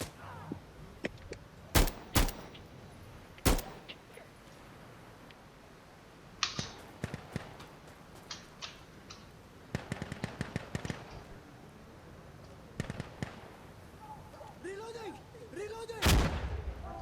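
Gunfire in the video game Insurgency Sandstorm, scattered sharp shots and short bursts, some loud and close and others distant, over a steady background rumble, with brief voices.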